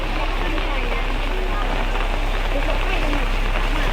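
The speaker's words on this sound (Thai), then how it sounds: "ฝนตกพี่น้องเอ้ย" Heavy rain pours down steadily on an evening market in Salavan, Laos, a loud continuous hiss of drops hitting surfaces with no break.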